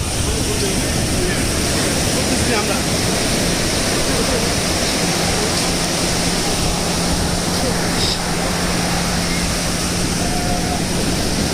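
Steady roar of surf washing onto Laboni Beach in Cox's Bazar, continuous and fairly loud, with broadband wind-like hiss throughout and no clear individual breakers.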